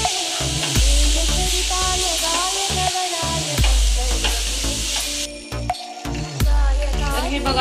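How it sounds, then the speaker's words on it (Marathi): Jaggery is stirred into roasted coconut in a pan for modak filling, with steady sizzling and repeated scraping strokes of a spoon, under a background of music and voice. "आता मी गूळ टाकणार आहे। गूळ टाकल्यानंतर एकदा हलवून घ्यायचंय।"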